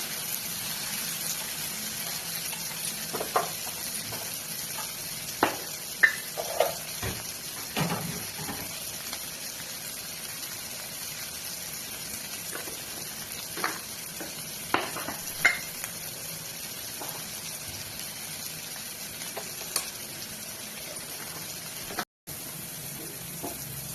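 Onion, tomato and green chili frying in a pan, a soft continuous sizzle close by, broken by occasional scrapes and clinks of stirring.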